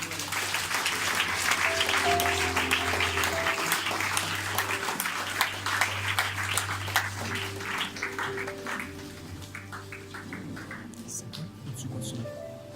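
A church congregation applauding, dense sustained clapping that fills the room and gradually thins toward the end, with voices murmuring and speaking underneath.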